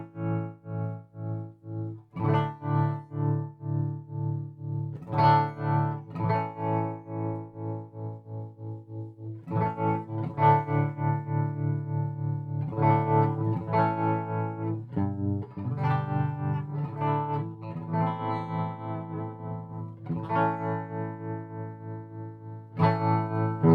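An electric guitar strums a series of sustained chords through a Tone Priest Red Dead Redeemer effects pedal set to smooth sine-wave modulation, each chord swelling and pulsing in a gentle, regular wobble with no talk over it.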